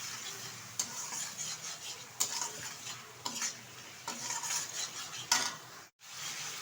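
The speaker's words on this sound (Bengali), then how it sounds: "ভালোভাবে আবার একটু কষিয়ে নেব মশলাটা।" Spices sizzle steadily in a hot pan as they fry for a potato, pointed gourd and paneer curry. A spoon stirs and scrapes against the pan at intervals, close up and without talk.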